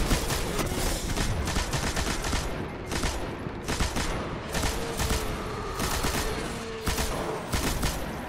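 Dense, rapid gunfire from the sci-fi shooter video game Destiny rattles almost continuously in loud bursts, with steady automatic shots and occasional heavier booms and no talk over it.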